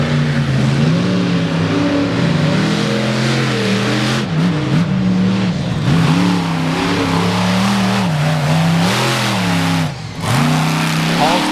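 A Raminator monster truck races on dusty gravel at a state fairgrounds event, its huge engine roaring loud and continuous with rising and falling revs, a brief dip near the end before it surges again.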